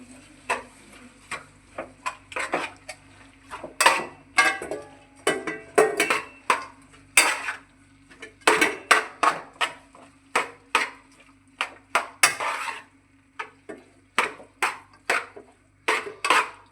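Cauliflower stirred in a pot with a spoon, producing a steady series of sharp metallic scrapes and knocks, fairly close and clear, with no talking.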